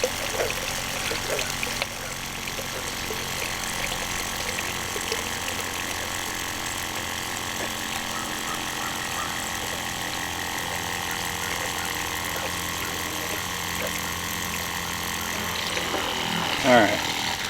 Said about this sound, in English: The pump is made so that it'll run dry and it won't hurt it.